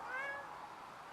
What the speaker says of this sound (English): That's my cat being a pain.